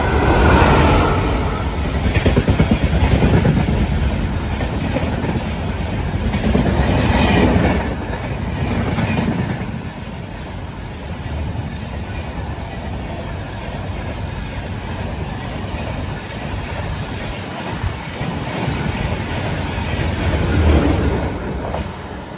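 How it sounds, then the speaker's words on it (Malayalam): Kollam–Tirupati biweekly express train rolling past Cheriyanad railway station near Chengannur, a loud, steady rumble of railcars and wheels that holds for over twenty seconds with faint clatter, no talk. "Kollam Tirupati by weekly express കേരളത്തിൽ നിന്ന് തിരുപ്പതിയിലേക്ക് പോകാൻ പറ്റിയ നല്ലൊരു ട്രെയിനാണ്"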